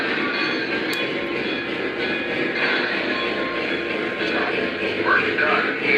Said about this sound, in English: train back there.